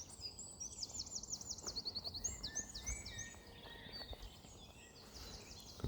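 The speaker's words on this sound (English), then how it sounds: "And birds singing." Birdsong rings through a calm, sunny bluebell wood in the Chilterns: quiet, overlapping trills and chirps from several birds repeat steadily over a soft, still background with no talking.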